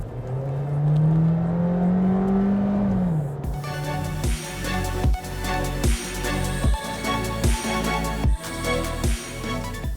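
A Volkswagen Virtus with 150 PS and a DSG gearbox pulls at full throttle, engine note rising steadily, then a quick upshift and a rhythmic series of regular thumps. The sound is from inside the cabin, fairly loud, with no talking.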